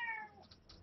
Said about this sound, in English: And that's a cat with his mouth full